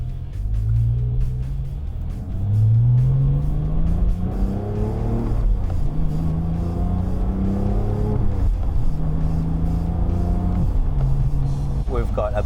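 A 2018 Porsche 911 GT3 Touring engine pulls along a Kentucky country road, rising through repeated gear sweeps with climbing tones and shifts, loud and close from inside, with talk over it.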